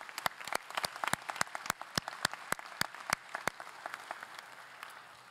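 Commencement audience at the Guttman Community College 2018 ceremony applauding faculty and the president, a scattered, moderately distant round of crisp individual claps that thins out after a few seconds.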